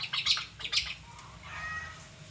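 A few sharp, harsh hawk squawks ring out close by, followed by a quieter, drawn-out call.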